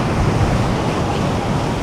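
Ocean surf pounds the shore at Somnath in Gujarat, a loud, continuous rushing wash of breaking waves with wind noise and no talk.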